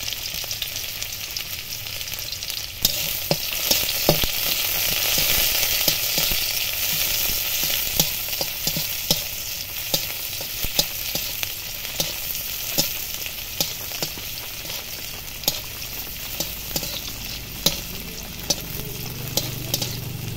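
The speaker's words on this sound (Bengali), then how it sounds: "পেঁয়াজ রসুনটা ভাজা ভাজা হয়ে গেছে।" Continuous close sizzle of chopped onion, crushed garlic and black cumin frying in oil, punctuated by regular clicks and scrapes of a utensil stirring the pan.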